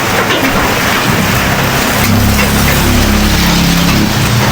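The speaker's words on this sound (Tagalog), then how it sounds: "Malakas yung ulan." Heavy rain pours down in a steady, loud, dense hiss that covers the whole stretch, with a low rumble building underneath partway through.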